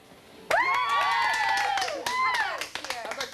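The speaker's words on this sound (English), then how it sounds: "How about a cheer?" Wedding guests cheer loudly together in a sudden burst of high whoops and shouts, mixed with clapping, then fading into scattered yells.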